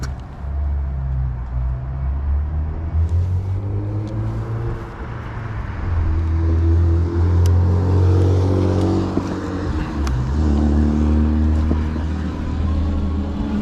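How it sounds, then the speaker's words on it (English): A truck approaches along a wet road on a gloomy rainy day, a loud low engine rumble with tyre hiss that swells and rises in pitch as it draws near, heard from the roadside. "Yeah, I do have a guy coming up here in a truck."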